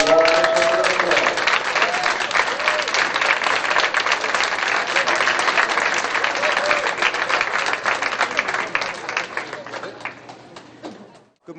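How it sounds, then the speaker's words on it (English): A crowd applauds high school bowling seniors at a bowling center tournament, dense sustained clapping close and loud for about ten seconds, then tapering off, with some voices mixed in. "Let's give them all a round of applause"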